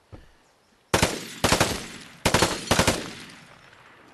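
Gunfire on the shooting range in the video game Vigor: four sharp, loud shots in two close pairs, each ringing out briefly before the next, with no talking.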